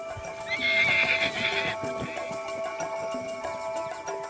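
A wild stallion neighs loudly once, a high whinny, over steady clip-clop of hooves on the ground outdoors.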